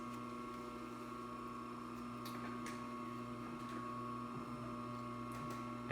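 A Columbia N430-2 industrial sewing machine, made in Japan and freshly overhauled, runs with a steady, fairly loud motor hum and a constant mechanical drone, with a few faint clicks on top and no voices.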